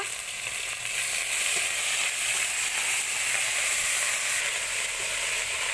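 Ginger and dried red chili paste fry in hot oil with a loud, continuous, even sizzle, with occasional faint stirring scrapes, in a home kitchen with no voices.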